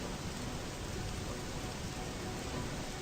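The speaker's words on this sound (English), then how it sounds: "the soothing sound of rain" Steady, dense rain falling without pause, a continuous even hiss with close patter on surfaces and no voices.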